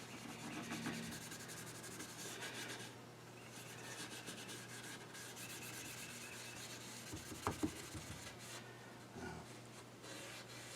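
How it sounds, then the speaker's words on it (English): Steady rhythmic hand sanding of cherry wood over tung oil, back-and-forth strokes continuing throughout at close range, with a couple of small knocks partway through. "I'm sanding exclusively on top of it."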